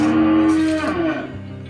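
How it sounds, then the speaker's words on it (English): Cattle on a farm give a loud, close, drawn-out moo lasting well over a second, its deep tone sliding slightly as it fades. "Cows will follow me because they think it's treat time."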